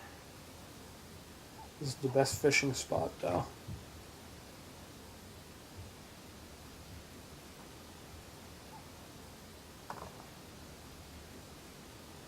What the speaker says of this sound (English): The waterfall's a little loud, ain't it?